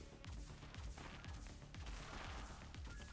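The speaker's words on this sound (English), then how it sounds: "The explosion stuff is pretty cool" Repeated explosions and gunfire-like blasts in the roguelike shooter game Bullet Bunny, rapid low booming thuds stacked closely over a dense busy mix of game effects, steady and moderately loud throughout.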